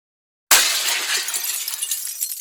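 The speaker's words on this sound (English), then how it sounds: "Smashing." A McFarlane Batman figure from the animated series is smashed, giving a sudden loud shattering crash that cuts in from silence and trails into scattered tinkling debris for about two seconds, with no speech.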